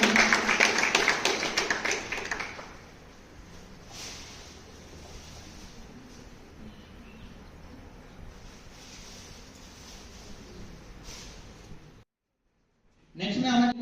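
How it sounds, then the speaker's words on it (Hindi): At a school award ceremony at Bharti School in Nawalgarh, the audience breaks into a loud burst of clapping for about two seconds, then falls back to a quiet murmur of the hall. "मनीष के लिए भी एक बार जोरदार तालियां"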